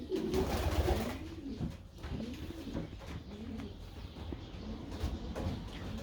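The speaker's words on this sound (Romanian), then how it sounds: "Așadar, cam aceștia ar fi porumbeii din acest volier." Pigeons coo steadily in an aviary holding breeds such as German drummers and white homing pigeons, a dense overlapping chorus of low throaty coos close by and continuing throughout without speech.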